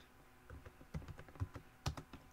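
Keys clack on a computer keyboard while a Cisco router is being configured, with irregular close taps and a few louder strikes, no talking.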